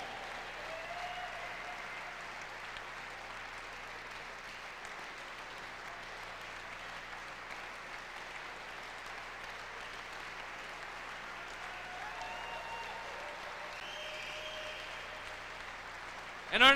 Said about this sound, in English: Ladies and gentlemen, a round of applause for Scott Lane.